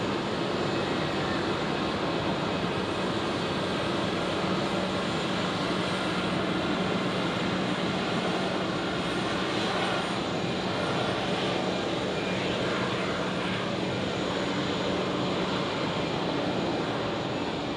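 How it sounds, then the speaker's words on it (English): An Airbus A320 airliner of Swiss at Zurich Airport on a foggy morning gives a continuous broad jet engine roar at moderate distance, steady throughout with no speech. "another A320 of Swiss is right here"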